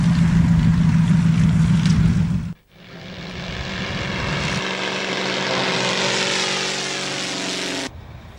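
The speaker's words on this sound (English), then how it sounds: "The Fletcher is up and down every few minutes" A Fletcher propeller topdressing aircraft spreading fertiliser drones loudly overhead. Its engine roar cuts out briefly, then returns with a rising, sustained pitch.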